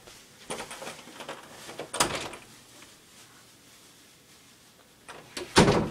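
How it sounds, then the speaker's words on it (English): An indoor door handled to answer a knock, soft clicks and knocks with a louder bang near the end, fairly faint in a quiet room. "Jan, can you answer the door, please?"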